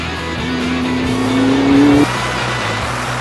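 A McLaren MP4 12C twin-turbo V8 supercar accelerates hard, its engine note climbing steadily in pitch and loudness before abruptly cutting off after about two seconds, with a lower drone continuing beneath.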